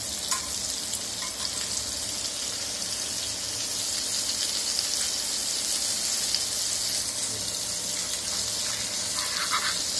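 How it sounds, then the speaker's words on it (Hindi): Fish pieces shallow-frying in oil on a flat tava, Kerala style, with a steady dense sizzle and crackle throughout, close and moderately loud, with no talking. "चम्मच से हम साइड में हल्का हल्का तेल डालेंगे।"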